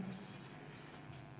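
Chalk or marker writing on a board in a classroom lecture, soft scratchy strokes repeating close by over a quiet background.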